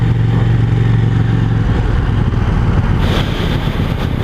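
A KTM 790 Duke motorcycle engine runs while riding, a loud continuous close drone with a shift in tone near the end.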